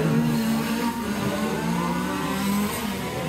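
Race cars lapping the track at the Saint Affrique 12-hour Yankee endurance race. Engines drone loudly and continuously at close range, with pitch shifting as cars rev and pass.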